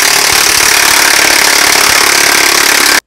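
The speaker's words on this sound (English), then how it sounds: "I have an impact that has the appropriate socket to drive this" Impact wrench driving the screw of a U-joint puller press to push a universal joint out of a driveline, heard as a loud, continuous rattling hammer for about three seconds before it stops abruptly, with no talk.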